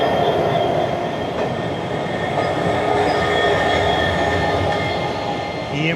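EMD diesel locomotives coupled with another engine hauling the Mysuru special train near Chikjajur, a continuous heavy rail rumble with faint wheel squeal running steadily throughout.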